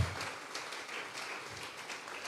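A church congregation claps hands together as an offering of praise, a steady, moderately quiet patter of many hands without speech.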